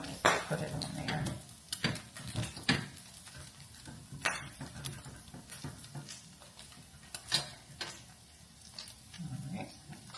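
An egg fries in a pan on a home stovetop, sizzling steadily beneath a scatter of sharp clicks and utensil clatter, fairly close and moderately loud.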